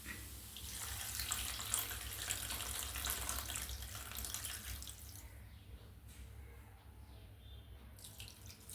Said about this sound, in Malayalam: ഇനി നമുക്കിതിലേക്ക് തിളപ്പിച്ചാറിയ വെള്ളം ഒഴിക്കാം.